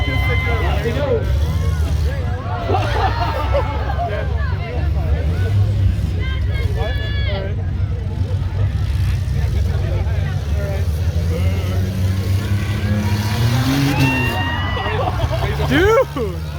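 A minivan roars around a dirt course in a county fair tough truck competition, engine droning loudly and steadily throughout while a crowd chatters and voices talk over it.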